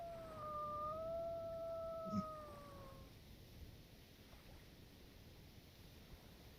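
A wolf howling in a Minecraft-style video game, one clear rising then falling howl lasting about three seconds over a soft steady background hum, then quiet ambience.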